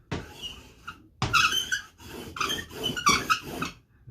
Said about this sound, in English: That squeaky rolling pin.